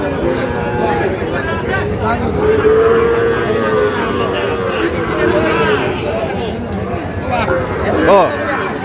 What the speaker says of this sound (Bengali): আজকে আমবাড়িহাটের যে সাইবাল জাতের বাছুর গরুগুলো গরুগুলো প্রায় বিক্রয় করা হচ্ছে